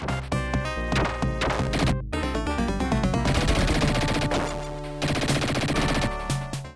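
Rapid-fire shots and crashing impacts from the Sega Genesis Dick Tracy side-scrolling game, layered over busy, loud chiptune music, with steady dense bursts throughout.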